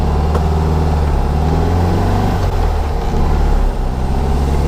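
A 1961 VW Beetle ragtop's air-cooled engine idles too high, giving a loud, steady, close drone that holds unchanged throughout with no voices.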